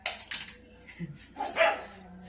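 Several dogs yip and bark in short, scattered bursts at moderate distance, mixed with faint voices.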